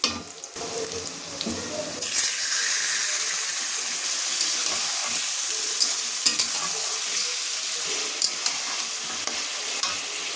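Steady sizzling and frying of chicken in a pan with occasional stirring scrapes and clinks, fairly loud and close, no voices.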